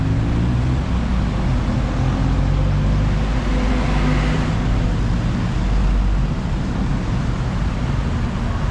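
Heavy Bangkok road traffic with a bus drawing near, a steady loud rumble of engines and tyres that swells a little in the middle, no voices.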